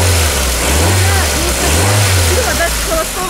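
A Nissan car engine runs steadily with a low rumbling hum and slight rises in revs, outdoors in wind, heard under people talking close by.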